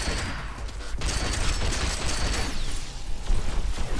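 Gunfire in the video game Agents of Mayhem, including sniper rifle shots, with dense loud bursts and rumbling impacts over a steady noisy game background throughout.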